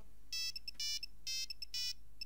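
A cell phone ringtone in a visual novel video game plays as a clean electronic melody of repeated bright tones in short bursts, alone and clear.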